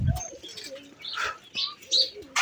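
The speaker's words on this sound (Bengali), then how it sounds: "তো এই শখের কবুতরগুলো কিন্তু আসলেই ভালো থাকার দরকার।" Pet pigeons cooing on a cold winter morning, soft throaty coos and chirps from several birds close by, interrupted by a few sharper bursts and a low thump at the start.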